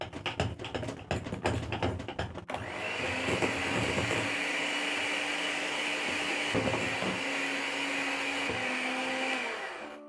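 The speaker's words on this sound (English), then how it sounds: "Then I'm going to mix using my mixer." An electric hand mixer beating cake batter runs as a loud, steady whir that starts after a few seconds of knocking and continues evenly to the end, with no talking.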